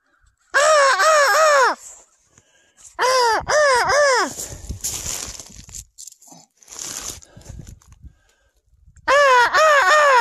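A crow caws loudly and close in three bursts of repeated harsh calls, with rustling and crunching noises between the bursts during an outdoor rabbit hunt.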